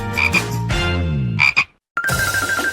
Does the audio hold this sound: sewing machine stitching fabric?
no